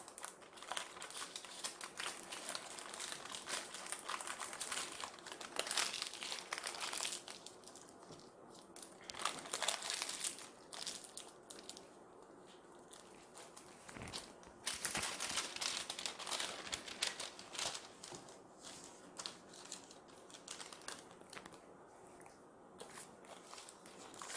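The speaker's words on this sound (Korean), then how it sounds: "유산지에다가 포장 이렇게 해주겠습니다" Parchment paper crinkles and rustles as homemade tortilla sandwiches are wrapped for kids' snacks, giving quiet, uneven crackling bursts with short pauses and no speech.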